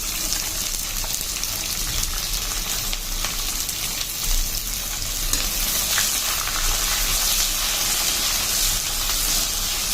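Dried red chillies and onions frying in hot oil for South Indian coconut rice, a steady close sizzle and crackle running without a break and with no talk.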